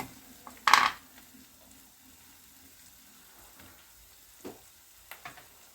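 Spices and fresh ginger-garlic frying in a pan for Chettinad chicken gravy, a short loud sizzling burst near the start followed by quiet low frying and a few faint stirring clinks.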